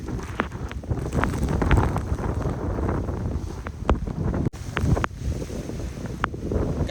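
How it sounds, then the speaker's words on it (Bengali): Strong gusty wind from Cyclone Remal buffets a mangrove embankment, roaring and battering close to the microphone in uneven surges, with occasional sharp thumps and no voices. "ওই সাইড থেকে এই সাইডের হাওয়াটা প্রচুর মারাত্মক হাওয়া হচ্ছে"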